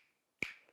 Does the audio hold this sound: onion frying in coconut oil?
no